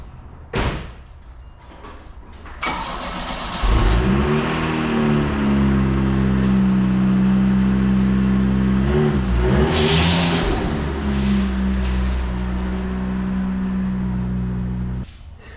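A supercharged 3800 V6 in a swapped Pontiac 6000 turns over with a door thump and then settles into a loud, steady idle with a brief rev partway through, close by and without talk.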